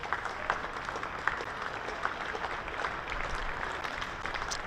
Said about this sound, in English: Good round of applause from this home crowd for the 100 up for the visitors